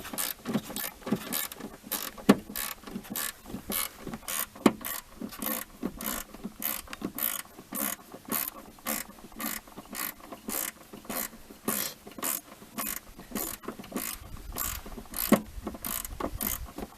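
A ratchet clicks rapidly and evenly while loosening bolts on a Ford Explorer, a close, steady stream of sharp metallic pawl ticks with no talk.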